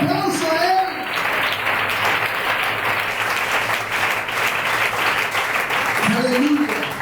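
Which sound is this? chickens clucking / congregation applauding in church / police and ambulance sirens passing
congregation applauding in church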